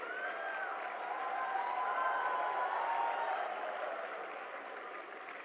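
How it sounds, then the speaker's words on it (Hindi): A large crowd applauds steadily and loudly at a live youth leadership dialogue event in India, a dense wash of clapping that swells in the middle and eases slightly toward the end. "ये तालियां आपके जोश और गर्व का प्रतीक है"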